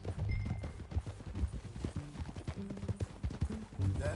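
Horse hooves clip-clop in a steady riding rhythm in a PS4 western game, close and clear, with music and brief game voices in the background.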